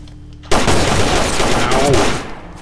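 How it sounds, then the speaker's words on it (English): Zombies firing guns in the video game S.T.A.L.K.E.R. Anomaly: a sudden loud burst of rapid gunfire that keeps going in a dense, close volley. "So the zombies shoot back."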